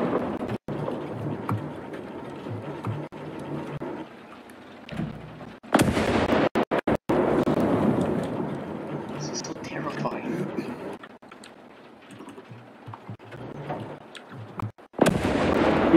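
Tank guns fire in War Thunder, with several loud, sharp blasts and a cluster of cracks amid rumbling engine noise, while players talk throughout.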